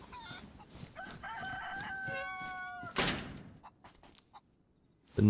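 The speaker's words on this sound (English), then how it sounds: "Another chicken." A rooster crows several times with a chicken's clucks in the DayZ Livonia game world, the crowing calls stacked in a rhythmic series before a loud burst and a few quieter knocks.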